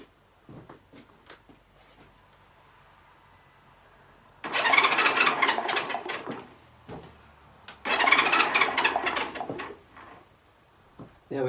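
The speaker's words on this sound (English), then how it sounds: "that should spin the engine over, so let's give it a whirl" A Honda CL350 motorcycle engine being started: two loud bursts of cranking and sputtering, each lasting about two seconds, separated by a pause. Faint scattered clicks and birdsong come before and between them.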